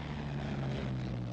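Douglas C-47 Skytrain, a World War II Allied cargo plane, drones steadily with propeller engines, a continuous low hum with a strong tonal band, heard alone without any talking.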